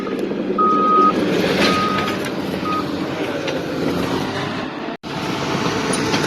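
A bulldozer cutting a dozer line beside a hand line at a California wildfire, with repeated reversing beeps over a steady, loud rumble of engine and tracks.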